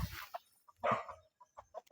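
Hens cluck and cry out in an African village, a few short scattered bursts with one louder squawk, heard close with quiet gaps between them.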